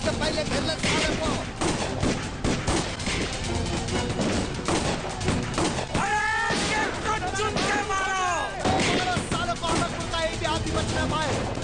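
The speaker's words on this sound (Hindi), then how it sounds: "गोली चला दे रहा हूं।" Dense gunfire from an action film shootout, with rapid overlapping bursts and shots, loud and close, mixed with shouting voices, dramatic music and whooshing effects.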